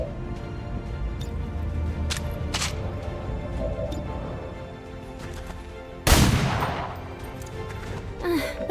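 Gunfire in the strategy game XCOM with the Beyond Legendary mod: scattered sharp cracks early on, then one loud, close blast near the end that rings out and fades, with no speech.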